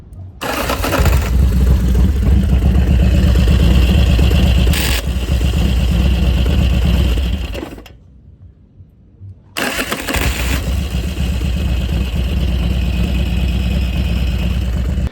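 A Harley FXR motorcycle engine cranks with a clunky noise and catches, idling roughly, cuts out briefly to near silence, then starts again and runs steadily; loud and close.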